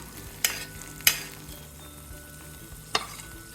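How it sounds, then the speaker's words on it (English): Butternut squash medallions sit in a tipped pan of sizzling sage butter, a quiet, steady frying hiss with three sharp clinks or taps of a spoon as the butter is basted over them. "I'm going to tip the pan and kind of baste them with that sage butter a little bit."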